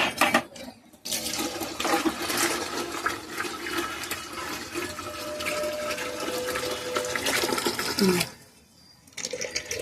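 Water splashes and pours continuously while pets are bathed outdoors during a storm, a close gushing flow that briefly pauses and then resumes.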